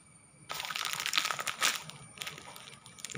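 Plastic packaging of a phone cover being torn and crinkled open by hand, a dense run of close crackling and rustling that swells and fades over about two seconds, with no talk.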